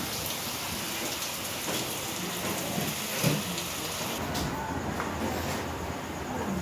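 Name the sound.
rain dripping off a tin roof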